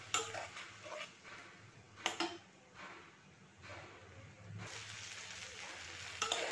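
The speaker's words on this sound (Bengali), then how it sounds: "স্বাদ মতো নুন, আর রসুন, আদা আর শুকনো লঙ্কা পেস্টটা দিয়ে দিলাম। দিয়ে আমি এটা ভালো করে কষে নেব।" Salt, garlic, ginger and dried chilli paste fry in a pan for a fish kalia, giving a soft, steady sizzle with a few clinks of a utensil against the pan.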